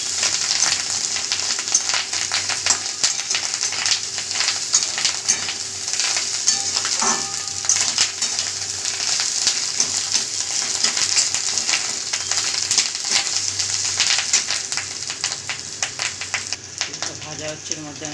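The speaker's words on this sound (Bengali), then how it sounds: "এবার আলুটার সঙ্গে ভেজে নেব, মিক্স করে নিলাম আলুটার সঙ্গে।" Potatoes frying in a pan with fish roe give a steady, bright sizzle that runs throughout, with occasional scrapes as the mixture is stirred.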